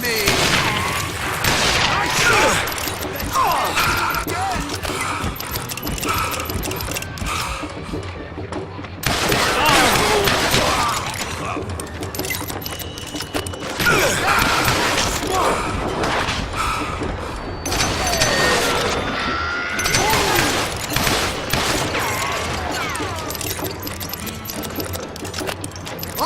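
Gunfire in the Western shooter Call of Juarez: Gunslinger, with dense bursts of shots and booming impacts that repeat over and over, broken by brief lulls, with someone talking over the gameplay.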